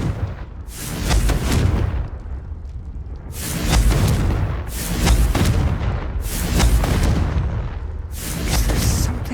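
Four heavy booming blasts from the Confringo blasting spell in the game Hogwarts Legacy, each a deep rumbling explosion that swells and decays over about a second, spaced roughly two seconds apart.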